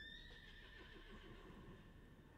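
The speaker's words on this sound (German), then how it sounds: "Und mein Pferd steigt?" Horse in the video game Star Stable rearing up and letting out a loud, drawn-out whinny over steady hoof clatter, with game sounds continuing beneath.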